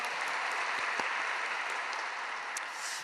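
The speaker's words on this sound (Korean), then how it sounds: "은혜의 말씀 전해주신 우리 목사님께 감사의 박수 드리겠습니다." Steady applause from a church congregation after a sermon, a dense wash of clapping heard at moderate volume throughout.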